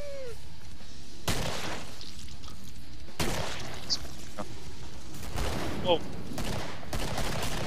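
Gunfire in the video game Killing Floor comes as several loud, separate bursts of shots spaced a second or two apart, with game sounds and a brief spoken exclamation between them.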